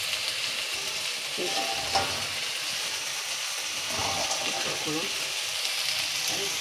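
Leafy greens frying in a pan with garlic and dried chili tempering give off a steady, close hiss and sizzle, with occasional stirring clatter.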